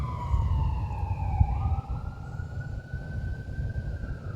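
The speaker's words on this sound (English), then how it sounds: "can you hear the sirens in the background?" An emergency siren wails, its pitch dipping and then rising again, heard at a distance over low traffic rumble.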